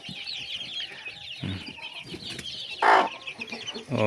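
Decorative chickens cluck in a poultry yard, several birds making short broken clucks and one louder squawk, close and without talk.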